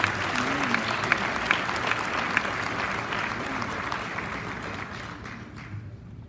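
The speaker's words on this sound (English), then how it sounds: "let us give him a round of applause as he comes forward" An audience claps at a civil liberties luncheon as an honoree from a sickle cell disease association comes forward, steady mid-volume applause that slowly fades out near the end, with a voice faintly audible underneath.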